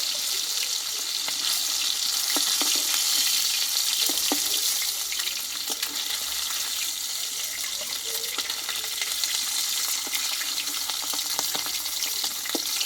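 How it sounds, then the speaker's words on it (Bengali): Hilsa fish fry in hot oil with a steady close-up sizzle and scattered pops and crackles that run evenly throughout. "মাছগুলো কিন্তু ভাজা হয়ে গেছে আমি তেল থেকে তুলে নেব"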